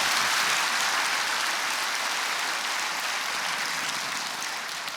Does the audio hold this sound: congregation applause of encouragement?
yes